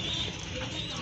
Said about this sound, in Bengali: আর এখানে কিন্তু আরেক জোড়া কবুতর আছে।